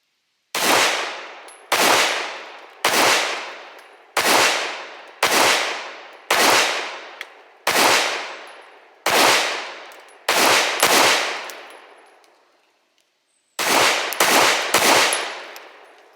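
A Hellcat Pro pistol fitted with a Strike Industries micro compensator and its stock spring fires at an outdoor range: about a dozen loud, close shots roughly a second apart, each with a ringing tail, then a pause and three quicker shots.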